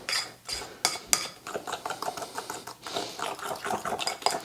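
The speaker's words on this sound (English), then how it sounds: "I'm just going to give it a quick stir because it's been sitting for a while so it settles a bit" A spoon clinks and scrapes around a bowl while stirring a maple butter tart filling of homemade butter, buttermilk and maple syrup, giving a quick, uneven run of close metallic taps and swishes with no talk.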